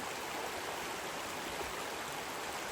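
A creek swollen after a hurricane flood rushes steadily, a broad, even hiss of flowing water that stays constant and close with no talk over it.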